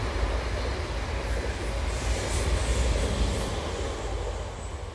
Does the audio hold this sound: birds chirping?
no